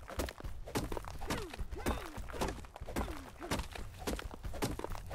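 Repeated pickaxe-style strikes on rock while harvesting flint in ARK: Survival Evolved Aberration, a steady series of thunks and cracks at close range with game ambience underneath.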